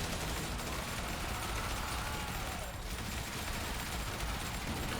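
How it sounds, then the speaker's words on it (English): Sustained rapid minigun fire in the Zombie Survivors video game, a dense continuous roar of gunfire holding steady and loud throughout with only a brief dip midway. "let's just do the minigun"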